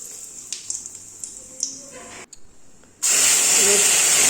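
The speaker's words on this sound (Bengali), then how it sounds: "আর মাছ ভাজার তেলেই শুকনো লঙ্কা, তেজপাতা আর জিরে ফোড়ন দিয়ে দিলাম।" Cumin, dried chillies and bay leaf drop into hot fish-frying oil: faint crackles and pops at first, a short lull, then a sudden loud, sustained sizzle that stays close and fills the rest.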